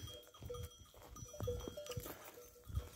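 A herd of goats out in the open, with scattered short bleats and clattering hoof or bell sounds rising and falling over a rough outdoor background, no clear speech.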